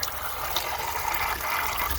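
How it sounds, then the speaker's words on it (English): Steady rushing and splashing of water pouring from a water pump, a strong continuous flow heard up close with no speech over it. "Freaking good water flow on that bugger."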